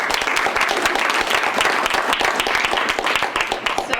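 An audience at a Carpenter Nature Center Kiwanis event applauds the board president, dense steady clapping from many hands filling the room for several seconds.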